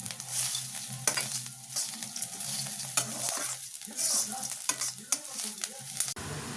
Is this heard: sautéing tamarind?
yes